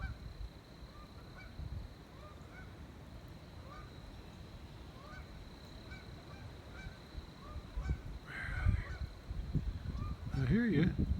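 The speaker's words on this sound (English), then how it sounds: "I hear geese." Wild geese honking as they fly low overhead at dusk, a run of repeated calls that swell louder and closer near the end over faint outdoor background noise.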